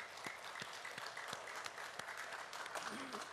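A church congregation at a Sunday worship service in Sillim Church applauds to welcome back an elder recovered from a long hospital stay, steady dense clapping filling the room, with a voice speaking briefly over it near the end.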